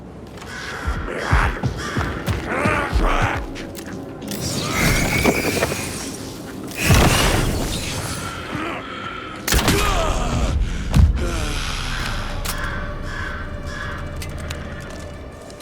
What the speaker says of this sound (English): I can still hear the birds.